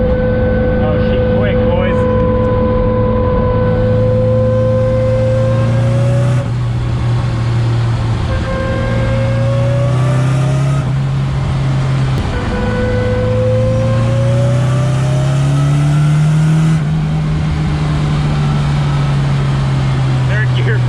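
A turbocharged SR20DET car engine revs and pulls hard through repeated climbs in pitch, with brief drops between gears, loud and close from inside the vehicle.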